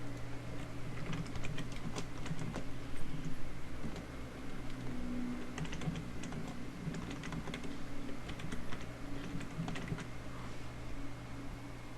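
Typing on a computer keyboard, steady stream of small clicking keystrokes continuing throughout over a low background hum, close and moderately quiet.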